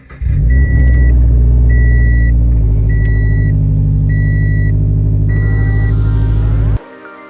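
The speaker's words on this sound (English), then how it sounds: "let's go ahead and start the car." A 2017 Subaru BRZ engine cranks and catches, settling into a loud, steady idle with a repeating chime beeping over it, then cuts off abruptly near the end.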